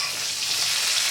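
Pieces of okra rubbed with turmeric and salt fry in hot oil over a medium flame, giving a dense, steady, close sizzle for about a second with no talking.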